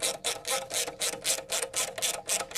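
A boost pipe clamp on a Mazda engine is tightened with a ratchet, giving about a dozen quick, even clicks close to the listener.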